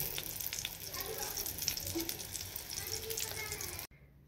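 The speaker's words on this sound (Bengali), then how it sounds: "ভাজার সাথে একটু কাঁচা লঙ্কাগুলো ভেজে নিচ্ছি।" Green chillies fry in oil alongside aubergine, a faint, continuous sizzle with light crackling pops that runs steadily and then cuts off abruptly near the end.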